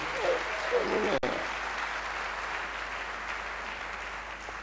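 A church congregation applauding, with dense, steady clapping that fills the whole clip and a voice speaking over it at the start.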